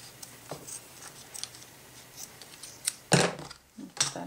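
Scissors snip through black polka dot ribbon in a quiet room, with faint small handling noises leading up to one crisp, close cut and a couple of lighter snips after it.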